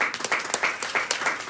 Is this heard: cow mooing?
no